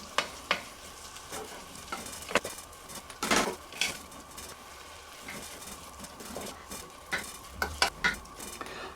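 Onions sautéing in a pan for Puerto Rican style vegetarian beans: a continuous soft sizzle with scattered stirring scrapes and clicks, close and fairly quiet, no talking.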